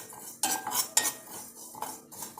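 Fennel seeds are stirred as they roast in a pan, with a few distinct metallic scrapes and clinks of a spoon against the pan spaced over a couple of seconds, close and fairly quiet.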